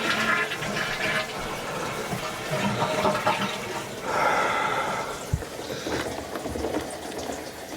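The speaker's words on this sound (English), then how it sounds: "There we go. Flush." A toilet flushes up close, with a loud sustained rush and gurgle of water that swells, dips and surges again as the bowl drains and refills in an old house bathroom.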